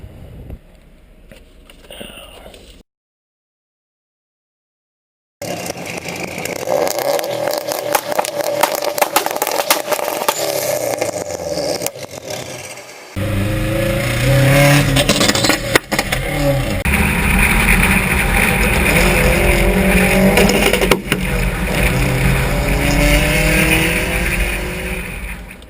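Slammed, hella-flush Subaru with anti-lag revs hard outdoors, sharp pops and crackles over rising and falling engine roar, broken by a brief silence before a louder, sustained stretch of revving.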